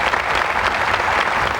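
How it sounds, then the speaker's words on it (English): An audience at a Tennis Hall of Fame induction ceremony gives a short, full burst of applause, many hands clapping evenly and close. "Thank you very much for your applause."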